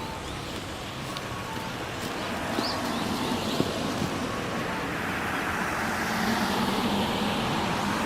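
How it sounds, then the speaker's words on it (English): Steady road rumble from a bus riding through snowy Nagano, Japan, a continuous broadband engine and tyre hum with faint wind and a few small knocks, no talking. "We're getting a bus."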